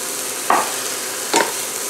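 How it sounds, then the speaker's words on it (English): Diced onion sizzles in butter in a skillet, a steady close hiss with two brief louder bursts as the pan is stirred, and no talking. "We want to hear a nice sizzle when those onions go in."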